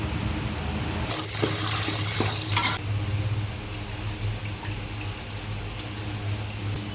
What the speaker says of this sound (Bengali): চালটা আমি এবার ধুয়ে ভিজিয়ে রেখে দেবো।